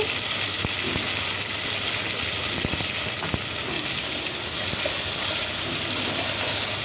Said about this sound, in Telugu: కొత్తిమీర పుదీనా కూడా వేసుకొని కొంచెం సేపు ఫ్రై చేసుకొని